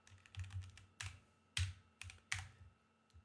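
Keystrokes on a computer keyboard come in quick bursts with a few sharper key presses, close and fairly quiet, no voices.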